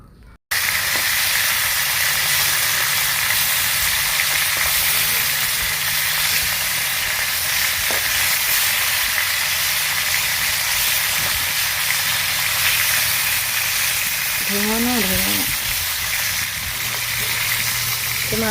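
Fish frying in oil in a pan on a clay stove, a steady, loud sizzle that runs unbroken and close-up for the whole stretch, with a few faint clinks.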